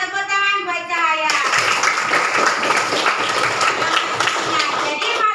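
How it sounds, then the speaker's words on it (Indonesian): Pupils in a school classroom clap for a classmate, bursting into a loud, dense round of clapping right after a voice speaks, continuing steadily and close until the end. "Tepuk tangan buat Cahaya."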